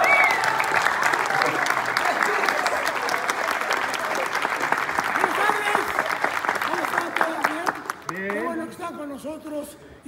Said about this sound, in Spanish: Quiero que le brindemos un fuerte aplauso